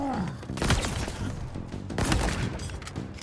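Loud, rapid gunfire bursts erupt in Halo Infinite combat, several heavy volleys with booming thuds across a few seconds.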